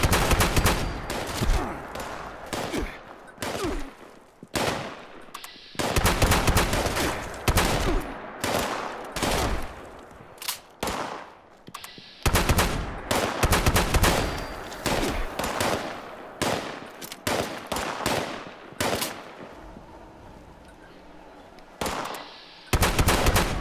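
Enemy gunfire in the video game Fallout 76: loud, near bursts of automatic fire and single shots crackle almost continuously, with brief pauses between volleys.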